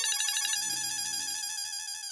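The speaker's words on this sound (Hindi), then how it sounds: "लो, दीदी का ही फोन आ गया।" A phone ringtone sounds for an incoming call, a loud, bright, warbling electronic melody that rings steadily and alone for about two seconds.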